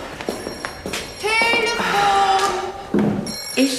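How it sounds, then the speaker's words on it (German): A telephone rings indoors in a German TV drama scene, repeated electronic ring tones sounding amid room noise and brief voices. "Telefon!"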